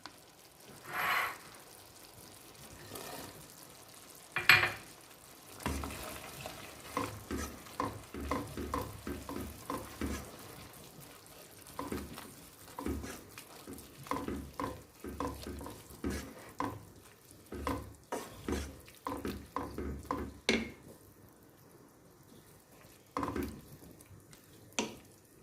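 Prune chutney with raisins and Espelette pepper caramelizes in a pan, giving a low bubbling sizzle with many irregular stirring scrapes and taps that continue throughout.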